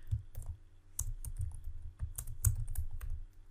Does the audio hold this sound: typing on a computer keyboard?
yes